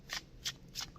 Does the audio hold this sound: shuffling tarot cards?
yes